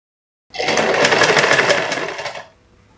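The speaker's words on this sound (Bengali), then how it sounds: "এভাবে আমরা মুড়িয়ে সাইড থেকে সেলাই করে নিচ্ছে।" A sewing machine runs in one continuous fast burst for about two seconds, stitching the side seam of a kameez, a dense buzzing whir heard alone and close.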